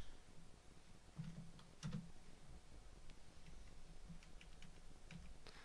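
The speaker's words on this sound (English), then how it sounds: "I'm just using the arrow keys here to position it exactly where I want it to be positioned" Arrow keys pressed on a computer keyboard, a few faint, sparse clicks and taps set against low background hiss, with no talking.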